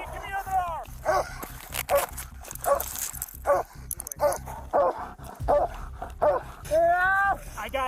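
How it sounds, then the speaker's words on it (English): A police dog during an arrest gives sharp barks, yips and whimpers in quick bursts, close and loud, mixed with shouting voices. "Get the dog off me!"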